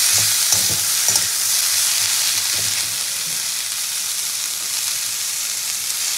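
Bitter gourd and potato frying in a pan for a Bengali chochchori: a steady loud sizzle throughout, with a few scraping stirs of a spatula near the start before the frying settles into an even hiss.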